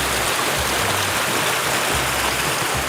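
A mountain river, a tributary of the Armkhi in Ingushetia, rushes steadily in a continuous broadband roar, close and loud, with no voices.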